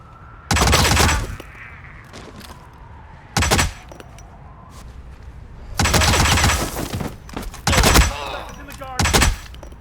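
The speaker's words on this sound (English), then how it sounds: "We've got reports of gunshots." Gunfire in the Hitman video game's Paris level: several loud bursts of shots, some single cracks and some rapid volleys, scattered across the clip with quieter game ambience and faint voices between.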